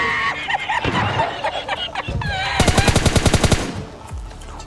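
Bursts of automatic gunfire ring out in a PUBG Lite match, a sharp rapid volley of about a dozen shots in steady rhythm following a few scattered earlier shots, loud and close.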